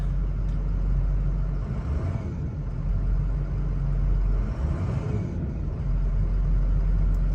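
A 2005 Ford Excursion Eddie Bauer with a 6.0L Powerstroke diesel idles with a steady low rumble, swelling in two mild revs before settling back, close and continuous with no talking.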